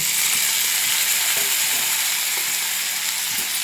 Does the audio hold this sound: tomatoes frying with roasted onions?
yes